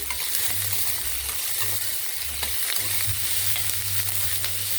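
Green chillies fry in a pan with a continuous sizzle and crackle, while a spoon gives occasional light stirring clicks for a tomato and broad bean curry.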